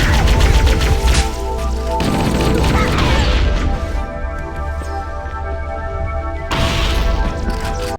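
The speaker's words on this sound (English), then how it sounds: "This absolute unit of a shoulderable firearm is loaded with a beefy 60 round magazine." An assault rifle in the video game Halo CE fires in sustained automatic bursts, loud and dense. Heavy impacts and crashes sound beneath tonal game music.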